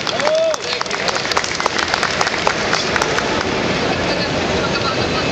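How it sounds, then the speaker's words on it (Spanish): Dense audience applause at a comic convention talk, a steady patter of many hands clapping for several seconds with faint voices mixed in. "Un aplauso, por favor"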